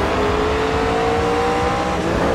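A McLaren race car in the racing game Grid 2 roars loudly and continuously, its engine note holding steady and then shifting slightly, with no voices over it.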